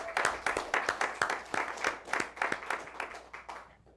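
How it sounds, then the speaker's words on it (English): A studio audience at a late-night talk show claps in distinct rhythmic bursts, fairly close and moderately loud, fading slightly toward the end. "Give them a big round of applause."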